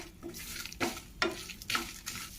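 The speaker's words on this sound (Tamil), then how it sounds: "ஒரு எட்டு வத்தல் நல்லா ஃப்ரை பண்ணிக்கணும்" Dried red chillies, cumin, chana dal and asafoetida fry in oil while a spoon scrapes through them in a few distinct, evenly spaced strokes over a soft, continuous sizzle.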